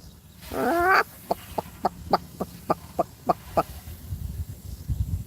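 A white crested cockatoo imitates a chicken, starting with a drawn-out squawk and then giving about ten evenly spaced short clucks close to the microphone, followed by soft background rustling.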